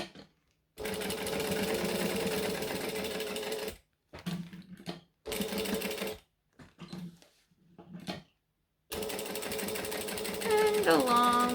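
A sewing machine stitches fabric in several long, loud runs broken by short pauses, including a back stitch over earlier stitches, its rapid mechanical whir sitting close with some quieter gaps between bursts.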